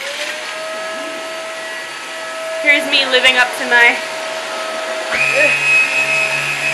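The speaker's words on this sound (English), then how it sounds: "her vacuum cleaner, because our vacuum cleaner actually died." A vacuum cleaner drones steadily with a high motor whine, while a person speaks briefly over it and the pitch shifts near the end.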